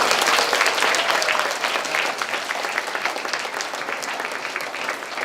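A room full of people applauds graduates at a school culmination ceremony, dense clapping loud at first and easing slightly while staying steady to the end.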